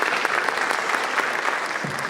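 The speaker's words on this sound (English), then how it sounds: "You can applaud." A public candidates' forum audience in Oxnard breaks into steady applause, a dense, even wash of many hands clapping at moderate loudness with no speech over it.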